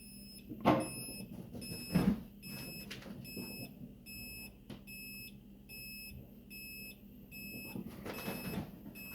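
Thin, high-pitched electronic beeps from a LiPo battery checker alarm repeat steadily in a quiet room, with a few soft knocks and handling sounds nearby.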